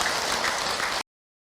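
Audience applause from a congregation at an Islamic sermon, a dense wash of clapping held steady for about a second before cutting off abruptly.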